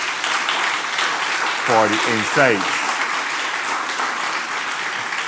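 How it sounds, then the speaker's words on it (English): A crowd claps in sustained applause, with a brief spoken phrase heard over the clapping partway through. "Surely this panel deserves another round of applause"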